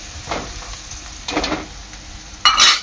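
Onions sizzle in a pan for a stuffed crab dish, with three short bursts of close stirring and scraping over a soft, constant frying hiss, the last burst the loudest.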